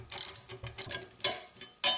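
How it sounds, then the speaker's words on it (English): Lock nuts being loosened on the blades of a Jiffy Stealth STX ice auger, giving close, faint metallic clicks and ratcheting bursts in short, uneven spurts with brief pauses between. "We're going to go ahead and remove the lock nuts."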